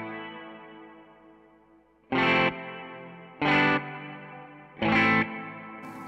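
Three distorted guitar chords strike in turn through an EarthQuaker Devices Dispatch Master reverb and delay pedal, each followed by a washy reverb tail that lingers and fades between hits.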